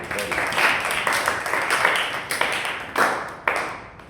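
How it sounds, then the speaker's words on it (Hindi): An audience claps together in sustained, lively applause at a church sermon, with occasional louder bursts of clapping. "जोरदार तालियां दीजिए।"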